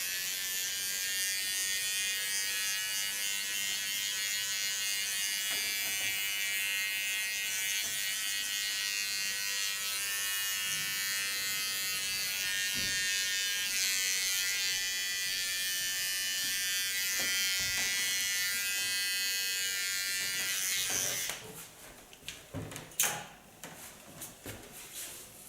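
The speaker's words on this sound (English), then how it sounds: "Small clipper." A small electric hair clipper buzzes steadily through short hair at close range during a haircut, a bright continuous hum that cuts off near the end, followed by a few handling knocks.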